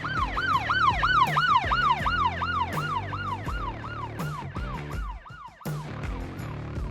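A Denver police car siren wails in a fast, steady rising-and-falling cycle during a pursuit of a Jeep Grand Cherokee, loud and close over road and engine noise, with a brief dip near the end.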